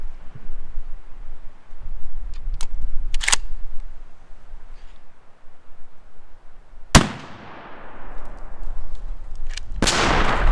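Turkey shotgun firing Hevi Shot Magnum blend loads with 5, 6 and 7 shot at a 40-yard pattern target outdoors; two sharp, loud reports about seven seconds apart, each ringing off, with faint clicks and rustling before them.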